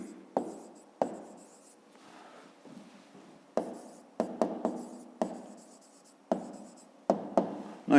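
Pen strokes scratch across paper while a fifth-grade maths solution is written out, coming in short bursts of separate scribbles with brief pauses between, close and clear.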